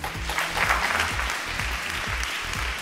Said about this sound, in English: let's put a smile on her and give her a good round of applause